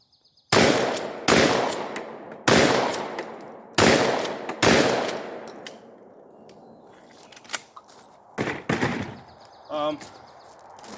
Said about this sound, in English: I'm gonna try and shoot this gun as fast as I can.